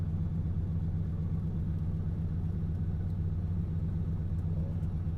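Ferrari 365 GTC/4 exhaust rumbling steadily at idle, a deep, even low drone heard from close by with no voices.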